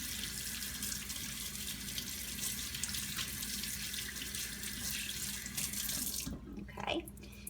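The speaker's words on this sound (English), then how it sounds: "And you just want to rinse it with lukewarm water." A faucet runs lukewarm water to rinse a makeup brush, with a steady, close splashing stream that cuts off near the end, leaving a few faint drips and handling sounds.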